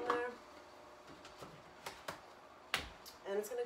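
Plastic lid pressed onto a container of cold brew coffee, a few quiet clicks and snaps at close range in a faint room.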